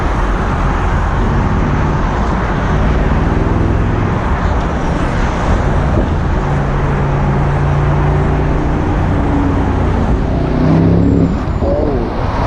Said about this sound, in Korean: 가속했을 때 그 RPM이 올라가면서 나오는 그 짐승, 그러니까 이 사자 같은 울음소리가